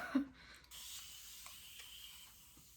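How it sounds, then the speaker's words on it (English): Continuous facial mist spritzer spraying onto a face, a soft sustained hiss after a brief click at the start, quiet and close. "So I'm going to spray my face"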